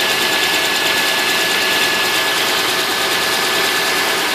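A 3.1/3.4 liter car engine idles steadily and close, an even continuous hum with a faint rhythmic ticking and no talk over it.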